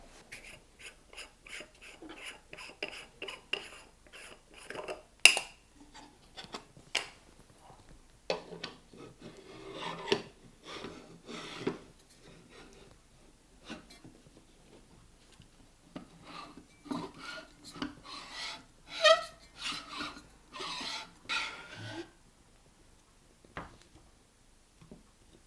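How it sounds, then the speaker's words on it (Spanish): A camera is threaded onto the back of an astrophotography telescope tube, producing close, quiet metallic rubbing, scraping and small clicks in irregular bursts, with short pauses between turns. "Vamos a enroscar a continuación la cámara para que veáis cómo se sitúa aquí en la parte de detrás"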